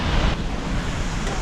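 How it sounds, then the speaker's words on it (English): Steady roaring rush of water close by at a waterfall in Iceland that walkers can pass behind, a dense continuous broadband wash without breaks, loud and unbroken throughout. "So we're at another waterfall, but this one you can actually go behind it"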